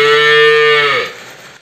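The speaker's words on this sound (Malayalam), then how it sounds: "ഷീര കർഷകൻ മാണിക്കിന്റെ വേദന മനസ്സിലാക്കിയാണ് ചിറ്റൂർ ക്ഷീരവികസന ഓഫീസർ അപ്സയും കുടുംബവും പുതിയ പശുവിനെ വാങ്ങി നൽകി മാതൃകയായത്." A single long cow moo, loud and close, holds steady for about a second before trailing off, on a Kerala dairy farm.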